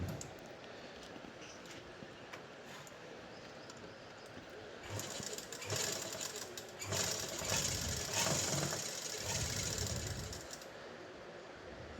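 A sewing machine stitches the fitting seam of a kameez, whirring in a few louder bursts through the middle over a steady hum of room noise.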